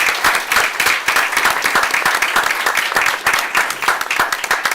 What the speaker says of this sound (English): let's give another round of applause to all of our retirees this evening and those who spoke for them